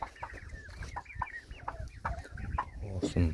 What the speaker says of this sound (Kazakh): Тауықтар жатыр көлеңкелеп.